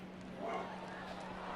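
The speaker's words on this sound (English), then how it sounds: "And yes, that is my dog." A dog barks faintly in the background of a baseball video game broadcast, its yips buried under a low steady hum and room noise.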